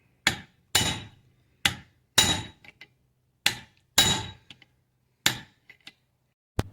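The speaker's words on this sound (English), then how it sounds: "Just held my punch and just kept spinning it, beating it, beating it, beating it." A hammer beats a punch against a U-joint on a 1992 Ford F150, eight sharp metallic strikes in an irregular rhythm with brief ringing after each and quiet gaps between.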